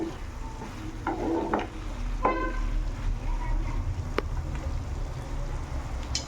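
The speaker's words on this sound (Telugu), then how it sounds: "కొద్దిగా రోస్ట్ అవ్వాలి ఆయిల్లో." Cashews, coriander, cumin, cardamom, cinnamon and cloves roast in hot oil for a soya chunk curry, making a steady close sizzle with occasional stirring scrapes.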